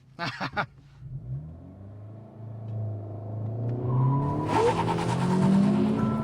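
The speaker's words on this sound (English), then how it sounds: "we race up that fake stoplight just as fast as we can and hammer on the brakes" A 2025 Honda Civic Si is driven hard in a stoplight acceleration-and-braking test. A faint opening is followed by a steadily building engine rumble and rising revs that grow loud, with a harsh burst of noise near the end.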